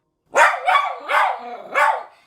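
A tiny dog barks four times in a steady, evenly spaced series, close and loud, with no talk around it.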